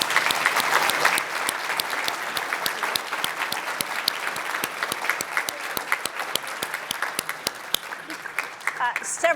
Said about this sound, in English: Let's do a round of applause for these three experts.